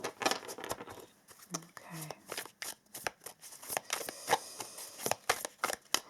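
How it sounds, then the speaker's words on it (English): Tarot deck shuffled by hand at close range, crisp riffling card flutters in quick uneven bursts, with faint talk in the background. "we're going to shuffle this tarot deck"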